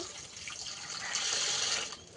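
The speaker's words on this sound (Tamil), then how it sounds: "கொஞ்சம் தண்ணி பிடிச்சிக்கலாங்க மீனுக்கு" Tap water running steadily into a vessel in a home kitchen to soak anchovies before washing, a soft continuous hiss that swells slightly in the middle.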